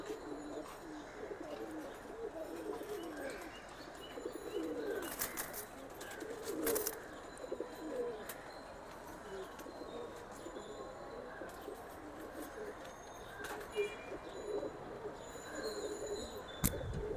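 Pigeons coo repeatedly inside a cage, soft low calls recurring throughout over a faint background, with a few sharper rustles and flutters.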